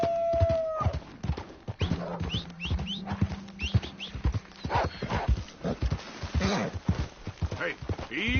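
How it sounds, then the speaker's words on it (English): Horse hooves clip-clop in a quick, close rhythm, with a whinny at the start and voices talking over the hoofbeats. "That horse don't listen."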